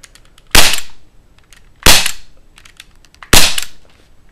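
Three sharp shots from a Smith & Wesson M&P non-blowback airsoft gas pistol, evenly spaced about a second and a half apart, each a loud crisp crack with a short decay.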